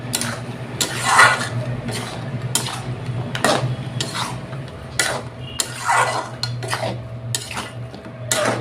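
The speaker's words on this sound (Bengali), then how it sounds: "ভালো করে নাইড়া দিলাম।" A utensil repeatedly scrapes and clinks against a pan while eggplant and fish head curry is stirred, sharp metallic strokes in an irregular rhythm over a low steady hum.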